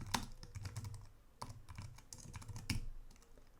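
Rapid, uneven clicking of keys on a computer keyboard while code is written in RPG on an IBM i/AS400 system, close and fairly quiet, with a few louder keystroke bursts and no talking.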